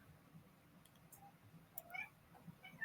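A house cat meows in a few short, faint calls close together, set against a low, steady background hum with no talking.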